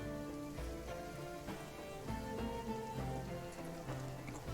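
Steady rain ambience fills the background of a tabletop game session, a continuous wash of patter layered with sustained musical tones, loud and unbroken throughout.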